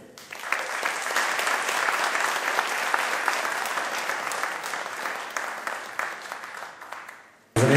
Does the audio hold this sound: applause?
yes